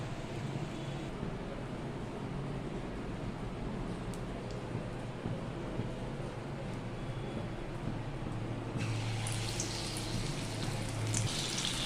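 Banana flower fritters frying in hot oil, a steady, soft, rain-like sizzle that continues throughout, growing slightly brighter near the end.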